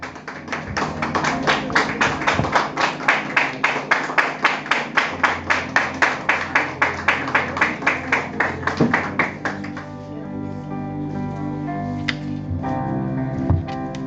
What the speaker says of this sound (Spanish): recibimos la palabra con un fuerte aplauso